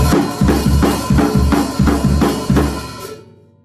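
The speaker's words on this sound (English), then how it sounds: "If you're doing a normal D beat, it sounds a little like this" A drum kit plays a fast, driving D-beat with pounding kick and snare and constant crashing cymbals, close and loud, then rings out.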